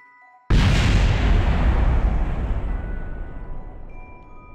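A sudden loud explosion in Kerbal Space Program, set off by an engineer while rebuilding a rescue capsule aboard a space station, hits with a sharp broadband boom and then rolls on as a long, slowly fading rumble that fills the rest of the moment.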